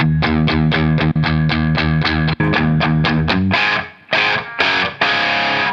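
Electric guitar chords strummed steadily through a Revv D20 amp, bright and full with a touch of reverb, ending in a few looser, noisier strums.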